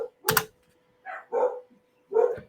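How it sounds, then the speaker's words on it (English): Dogs barking indoors, three or four short sharp barks separated by brief silences, fairly close and with no talking over them. "I don't know what they're barking at."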